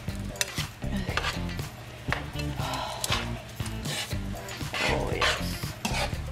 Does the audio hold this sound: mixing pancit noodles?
yes